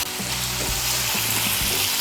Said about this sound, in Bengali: মিশিয়ে নিয়ে মশলাটাকে আরেকটু কষিয়ে নেব।